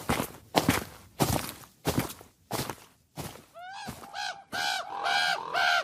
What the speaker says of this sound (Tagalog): Bakit parang may mga uwak na naman